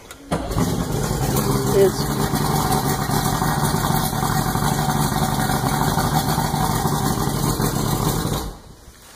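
The outboard motor on a 1985 Boston Whaler Outrage catches and settles into a loud, steady idle close by, rumbling evenly until it cuts off near the end, with someone speaking briefly over it.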